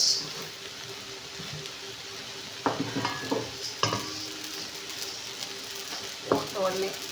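Ingredients being stirred and lightly fried together in a pan, a steady sizzle with several distinct scraping stir strokes close by, and faint voices in the background.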